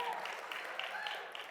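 A live auction crowd applauds and cheers the bidders, a moderate, fairly steady clatter of clapping with a few sharper hand claps on top, with some voices mixed in.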